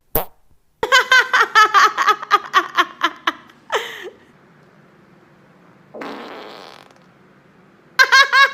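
A woman lets out a long, loud run of rapid, sputtering farts lasting a few seconds, then a short burst, a softer buzzing toot, and another loud burst at the end; no talk over them.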